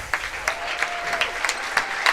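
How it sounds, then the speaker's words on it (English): A crowd claps in steady, close applause at a girls' tournament basketball game at the Miller Family Arena, as starters leave the floor to a standing ovation. "they'll get a standing ovation from the crowd here at the Miller Family Arena"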